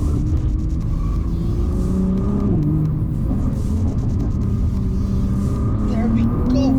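Nissan GT-R R35 engine pulling at part throttle through mountain corners, a steady low droning rumble with gently rising pitch, continuous and close throughout.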